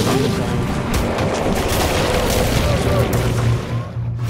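An explosion in Evil Dead: The Game bursts as a loud, sustained booming roar with crackling debris, close and continuous over several seconds, while a player talks over it.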